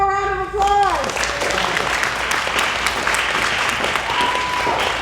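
Sustained applause from a crowd at a youth awards gala, a dense, even wash of many hands clapping for several seconds after a brief spoken line at the start.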